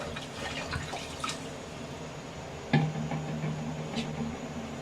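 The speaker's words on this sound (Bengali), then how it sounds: "এখন আমি জল দিয়ে দিব শাকটা আমি একটু ঢাকবো না ঝোল থাকবে প্রচুর পরিমাণে ঝোল থাকবে" Water poured into a pan of sautéed greens, a soft splash and trickle at first, then a brief louder gush of liquid hitting the pan partway through, fairly close and with no talking.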